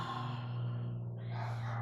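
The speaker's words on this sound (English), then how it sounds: "Exhale out your mouth." A long breathy exhale out through the mouth during a yoga sun salutation, close and steady over a low background hum.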